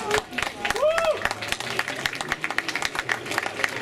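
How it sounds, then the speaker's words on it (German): Applause breaks out at a summer festival bingo show, scattered hands clapping under lively crowd noise and talking voices, with a whooping vocal call rising above it early on. "Ich bitte einen Applaus für Vicky P."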